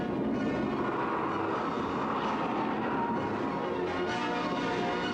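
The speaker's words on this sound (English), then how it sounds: "Here comes number 189, Rees and Davis's Ford Anglia." A Ford Anglia rally car, crewed by Rees and Davis on a long-distance road rally, gives off a steady, rough engine drone that holds at a constant level throughout, with no clear rise or fall.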